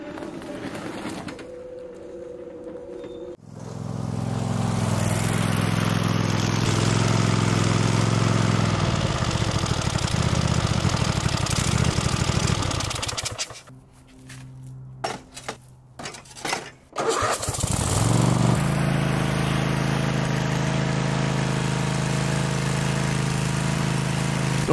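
A lawn mower fitted with a leaf-clearing attachment runs steadily on a neglected property, its engine droning loud and close with a brief dip and rough sputter midway before it picks back up; birds call faintly in the background.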